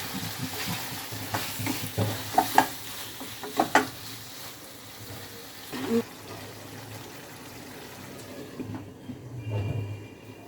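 Two dried red chillies dropped into hot oil with cooked chicken, a low steady sizzle broken by a few sharp stirring clinks and scrapes, fading toward the end.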